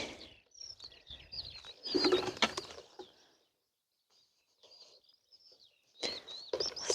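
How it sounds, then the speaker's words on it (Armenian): Small birds chirp and trill in short high phrases, with rustling and shuffling noises nearby between the calls. "հենց ծիտիկները երգում են"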